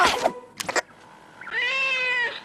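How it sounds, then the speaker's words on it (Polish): A cat meows from inside a wall, apparently trapped between two wall panels: one sustained, clear meow near the end, preceded by a brief burst of other noise. "No, to prawda, że słychać kota."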